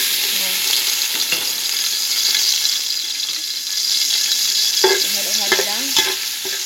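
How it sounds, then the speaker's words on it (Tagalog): Garlic sizzling steadily in reheated cooking oil, loud and close, with a spatula scraping and clinking against the pan near the end as it is stirred. "Pinapainit ko yung mantika ulit. Tapos nilalagyan ko ng bawang."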